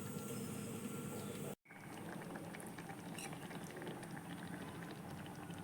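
Vegetable masala gravy with butter and coriander leaves bubbles steadily in a pot, a dense continuous boiling hiss that cuts out for a moment and then resumes, with no talking.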